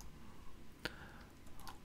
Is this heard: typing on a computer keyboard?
yes